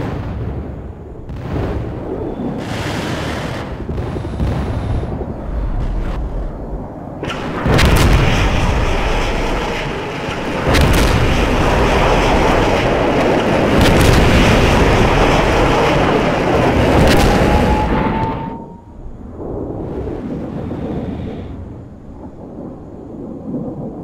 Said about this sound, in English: Want an artillery barrage?